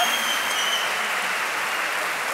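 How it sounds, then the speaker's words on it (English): Audience applause at the Dreamhack Winter 2014 CS:GO Championship grand final in Sweden, a dense wash of clapping from a large crowd, loud and steady throughout. "Give a clap for the flashbang dance."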